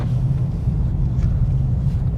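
A 2025 BMW Z4 with a six-cylinder engine and manual gearbox pulls away slowly, a steady low engine rumble and road drone heard from inside the cabin without speech.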